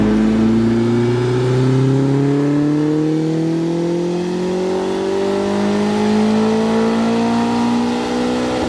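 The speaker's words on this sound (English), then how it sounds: "So I pulled back the boost just a touch and ran it on the dyno one last time." Turbocharged Mazda Miata on a dyno, engine loud and close as it revs steadily upward in one long continuous pull, the pitch climbing smoothly throughout with a rough intake and exhaust roar.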